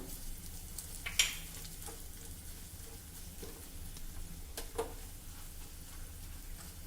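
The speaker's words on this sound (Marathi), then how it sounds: "दोन सुक्या लाल मिरची घालणार आहे पाच ते सहा कढीपत्त्याची पानं" Dried red chillies and curry leaves fry in a hot tadka with a pinch of asafoetida, giving a steady crackling sizzle with a couple of sharp pops, close by and continuous, with no talk.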